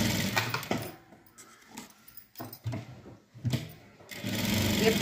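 A sewing machine stitches a blouse in short stop-start bursts of rapid whirring, several runs broken by brief pauses, fairly close and quiet.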